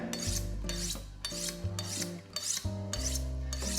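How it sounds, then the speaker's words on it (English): Kitchen knife sharpened on a steel, with repeated rhythmic rasping strokes about every half second over steady background music, no voices. "We always have to sharpen our knife, okay?"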